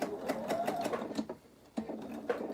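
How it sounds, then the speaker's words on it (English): A sewing machine stitches quilt fabric pieces with a scant quarter-inch seam, running in quick repeated bursts of rapid needle clatter with a short pause in the middle, close and fairly loud. "bring it to the sewing machine and sew with my scant 1/4-inch seam allowance"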